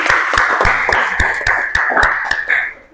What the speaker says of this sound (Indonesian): Tepuk tangan untuk kawannya.